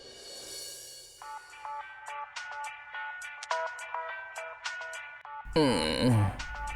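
Looping electronic phone ringtone plays in the morning, a repeating melodic pattern heard fairly clearly for several seconds. A louder voice cuts in at the end.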